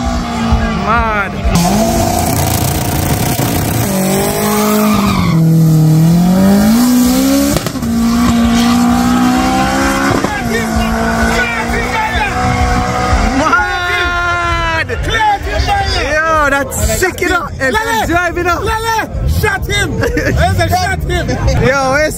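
Street race cars, a Honda S2000 and a 2ZZ Celica, rev hard with rising and falling engine whines and tire squeal, under constant loud crowd chatter and shouting.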